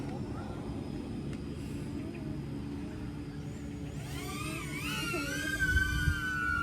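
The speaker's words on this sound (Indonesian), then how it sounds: "Start motor." Small DJI Neo drone motors spinning up outdoors at Mertasari beach in strong wind, a faint whir rising into a higher buzzing whine with gusty wind noise underneath.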